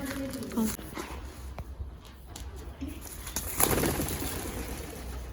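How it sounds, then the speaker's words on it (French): Pigeons coo softly in the background at a pony riding club, low throaty calls repeating now and then amid rustling and a brief burst of noise. "Les pigeons dans ce club, on va pas en parler."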